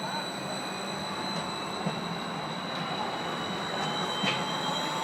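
A new tram passes along a street in Innsbruck, its wheels producing sustained high-pitched squealing tones over a steady rolling rumble, fairly close and continuous, with city ambience and a couple of brief knocks.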